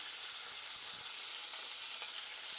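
Onion, garlic, green chilli and curry leaves sautéing in a pan give off a steady, even sizzle with a bright hiss and no pauses.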